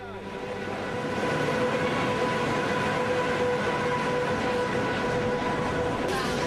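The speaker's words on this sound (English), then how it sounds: "There's a great air of anticipation as the enormous locomotive pulls" An enormous locomotive pulls a train out of Xi'an, bound for Tibet, with a steady, loud rumble of rolling wheels and machinery and a faint whine above it, while someone talks over it.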